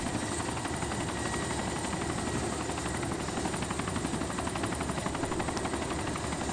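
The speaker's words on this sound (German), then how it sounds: "Ah, der Heli dreht sich schon nur." A helicopter in the video game DayZ spins up, its rotor producing a steady, loud, rapid chopping beat throughout with no talking.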